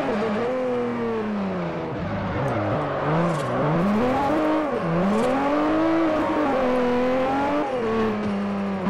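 A Nissan Skyline GT-R in a Forza Horizon racing game drifts with all-wheel drive, its engine note loud and steady, rising and falling as the revs swing, with tires squealing underneath throughout.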